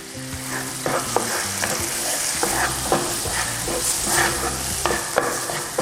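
Thai red curry paste stir-fried with thick coconut cream for pork panang, a steady loud sizzle broken by repeated scraping strokes of a spatula in the pan, with soft background music and no speech.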